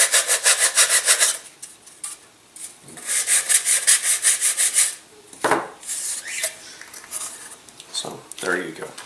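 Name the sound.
sanding a burr off a model rocket glider part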